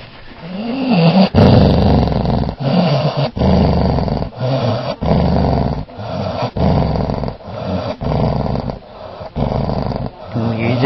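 A dog lets out a low, rumbling purr-like growl in a long series of pulsing bursts, close and fairly loud, with a person talking softly over parts of it.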